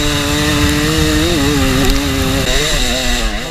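Dirt bike engine screaming at full throttle during a harescramble race through woods and fields, a loud, steady high-revving drone with rising and falling pitch as the rider shifts, close to the microphone and without talk.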